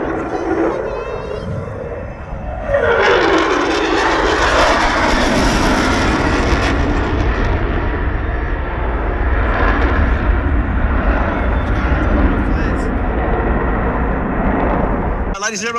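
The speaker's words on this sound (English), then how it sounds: "There is your C-17A Globemaster" A C-17A Globemaster military transport aircraft flies past at an airshow, its engines swelling from a distant rumble into a loud, sustained roar that fills the rest of the pass.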